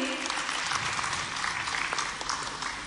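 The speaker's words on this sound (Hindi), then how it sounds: "तालियां इस सफलता के सोपान पुस्तिका के विमोचन के लिए" A hall audience applauds the release of a booklet at a ceremony honouring UPSC candidates in Bhopal, a brief burst of dense, fairly distant clapping.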